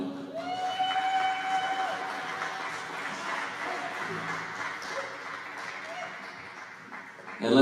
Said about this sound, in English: Let's give a big round of applause for Lakota People's Law Project.